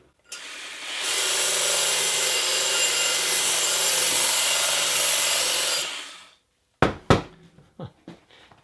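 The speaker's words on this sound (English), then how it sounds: "take the trusty old work sharp, put a very coarse grit on there, and just go gently and see what happens" A Work Sharp sander fitted with a coarse-grit belt grinds the cut edge of a wine bottle in one steady, loud, abrasive whine lasting about five seconds, followed by a few sharp clinks and knocks after it stops.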